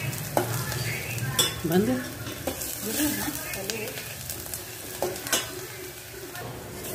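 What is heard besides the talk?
frying and stirring in a pan on low gas until golden brown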